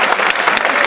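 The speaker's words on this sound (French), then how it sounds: "On les applaudit, hein." An audience claps for the finalists at a French Imagine Cup 2013 closing ceremony, a brief dense burst of many hands applauding at close range, loud and continuous.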